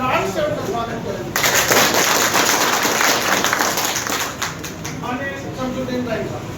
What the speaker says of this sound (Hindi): हम लोग तालियों की गड़गड़ाहट से उनका स्वागत करेंगे